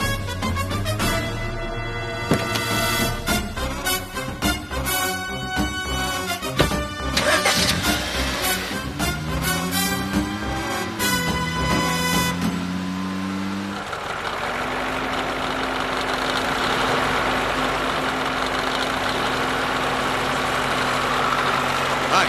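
A vehicle engine starts and settles into a steady idle rumble in a Tamil TV serial scene, following a stretch of background music.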